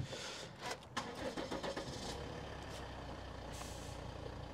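A vehicle engine cranking and catching, then settling into a steady idle; the start is close and loud, with a rumbling run continuing afterward and no talk over it.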